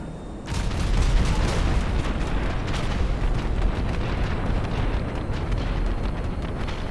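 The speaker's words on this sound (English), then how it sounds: "But we're going to try the bombing run. I want to see what the bomb is like." Bombs from a B11 Strikeforce bombing run explode in Grand Theft Auto 5, kicking in abruptly as a loud, sustained roaring rumble of blasts that stays dense and heavy to the end.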